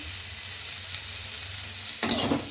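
Cauliflower frying in oil in a wok, a continuous soft hissing sizzle that flares into louder crackling as more food is stirred in near the end.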